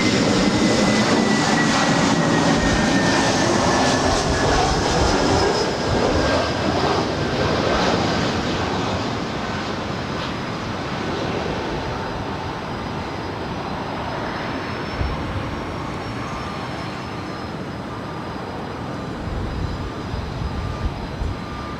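A Delta Airlines jet at LAX airport roars steadily with loud engine noise that slowly fades over a long stretch, with no talking.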